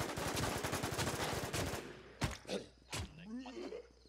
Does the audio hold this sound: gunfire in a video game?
yes